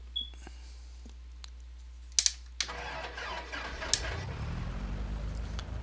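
A Cessna 172 Skyhawk piston engine cranks with a few sharp clicks and brief starter whine, then catches and settles into a steady low idle rumble, heard close up in the cockpit.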